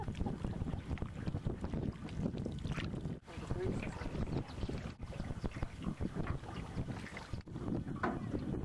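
Steady gusting wind buffets the microphone over Mono Lake, California, a dense, continuous low rumble with brief dips, with faint voices in the background.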